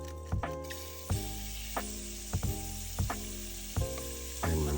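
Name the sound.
shrimp sautéing in oil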